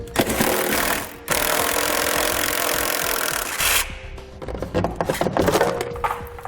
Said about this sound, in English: you'll need to remove 2 nuts using a 10mm socket